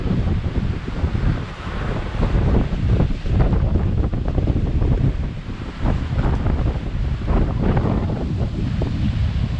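Strong typhoon wind roars and buffets a microphone on the Macau coast along Rua de Hac Sá Long Chao Kok, with big ocean waves surging and crashing beneath it, loud and continuous throughout.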